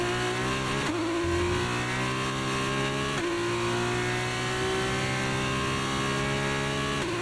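Hitech GP F2 race car in the F1 23 video game at Bahrain, its engine screaming loud and steady with sharp gear-change dips as it shifts, no talk.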